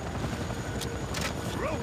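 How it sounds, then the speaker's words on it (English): A helicopter in the video game C&C Renegade, a steady dense rotor roar filling the scene, with short bursts of game effects and a rising whistle near the end. "Another chopper! Take it out!"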